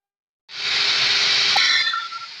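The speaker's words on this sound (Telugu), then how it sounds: "ఇది మూడో విజిల్ అండి" The third whistle of a pressure cooker cooking sweet pumpkin halwa, a loud, steady rush of hissing steam that bursts in suddenly and holds for about two seconds, close by and alone.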